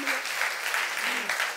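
Brief, dense applause from a young adults' congregation in a Korean church service, steady clapping throughout with a short swell near the end.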